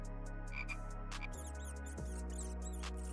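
Frog croaks ring out in the video game Exit 6, a few short, close calls over a steady droning game soundtrack, with no talk.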